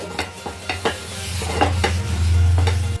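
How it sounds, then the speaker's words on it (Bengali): Tissue paper wipes excess oil across a hot tawa while making egg paratha, producing close, soft scraping strokes over a low, steady stovetop rumble and faint sizzle. "টিস্যু পেপারের সাহায্যে এক্সট্রা যে অয়েলটা তাওয়ার মধ্যে লেগে আছে আমি সেটা মুছে নেব।"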